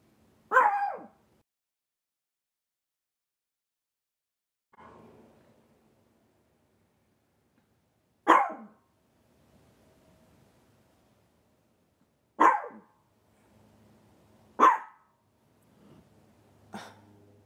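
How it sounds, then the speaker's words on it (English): A pet dog barks in sharp single yaps spaced several seconds apart, six in all, fairly close in a quiet indoor room with faint background murmur between barks. "Shadow, please stop barking."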